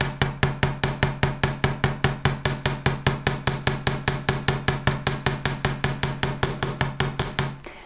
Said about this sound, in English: I'm going to use the chasing hammer to texture.